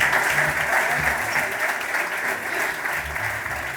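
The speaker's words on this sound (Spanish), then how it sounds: "Un aplauso para Maite." Steady audience applause at a Spanish-language event on sustainable biodiversity and international cooperatives, a dense continuous wash of many hands clapping at even loudness for the whole stretch, with faint voices underneath.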